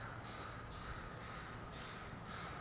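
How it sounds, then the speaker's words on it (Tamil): A crow cawing near a small golf ground in Bellevue: about five evenly spaced, faint, hoarse caws with a steady outdoor hiss between them, and no talk. "காக்கா கத்துது."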